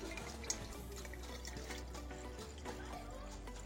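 Water pours from a tap to fill a new drinking bottle in a home. It makes a soft, steady trickle with faint splashes and a low hum, heard alone.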